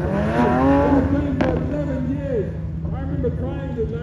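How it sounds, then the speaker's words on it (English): A tango orange roadster race car, one of a limited last-of-the-line run of 250, drives in during a demo at a Brands Hatch GT racing event, its engine note rising and falling beneath continuous commentary. "here he comes in. Wonderful to see this tango orange car come in."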